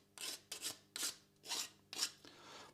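Hand file rasping burrs off a machined metal part in a workshop: five or six separate strokes, each a short scraping rasp, fairly close and steady, with faint hum underneath and no talk.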